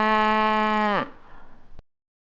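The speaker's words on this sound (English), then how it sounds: "cow," A farm cow lets out one long, loud, steady moo lasting about a second, which trails off into a short rustle and a faint click.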